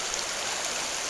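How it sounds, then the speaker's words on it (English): A languid river flows through wilderness, giving a steady broadband rushing and babbling of water, close and constant with no voices. "The river is very languid."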